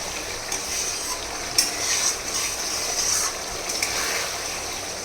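Spice paste for a large fish-head curry with aar fish being stirred and fried in a home kitchen pan, a steady bright sizzle with occasional scraping clinks of a spatula, close and continuous, no speech.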